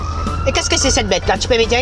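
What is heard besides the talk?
ambulance siren in a video game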